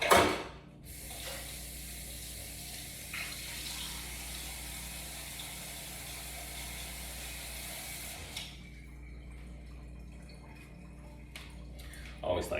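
Tap water runs steadily into a sink as meat is rinsed, a constant close hiss that stops abruptly, followed by a few faint drips and clatters.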